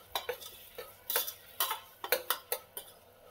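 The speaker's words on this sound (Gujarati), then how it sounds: "હવે આવી રીતે એને પણ મિક્સ કરી લેવાનું છે." A metal spoon stirring potatoes and long beans in a pressure cooker pot, making a quick series of sharp, close scraping clinks in an uneven rhythm.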